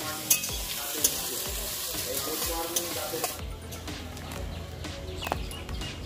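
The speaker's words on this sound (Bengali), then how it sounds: "এটা মাংস হচ্ছে, যে দিশি মুরগিটা কেটেছিল বৌমা ওইটা রান্না হচ্ছে" Country chicken meat cooking in a pan, loud steady sizzling with stirring scrapes and occasional sharp clinks of a utensil against the pan.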